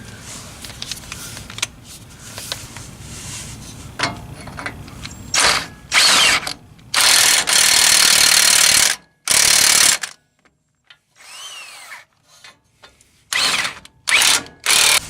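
Power tool driving down brake caliper bolts on a Toyota 4Runner during a brake pad job, several loud close bursts of whirring and ratcheting separated by short pauses and quieter handling noise.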